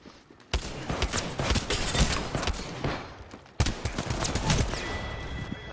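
Gunfire in a first-person shooter video game: dense bursts of rapid shots in two loud volleys, separated by a sharp cut, with faint background noise.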